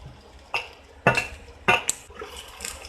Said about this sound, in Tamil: இப்போ நம்ம இந்த மஷ்ரூம்ஸ் ஆட் பண்ணிடலாம்